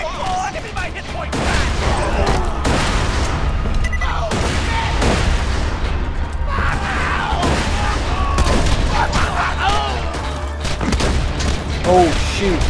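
Borderlands 2 combat with grenade explosions and gunfire, repeated loud bursts and booming blasts scattered through a busy firefight, with a voice talking over the action at times.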